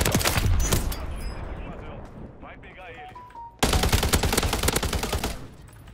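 Rapid automatic gunfire in the shooter game Warzone 2.0 rattles in loud, dense bursts, one at the start and another after a short lull filled with softer game effects.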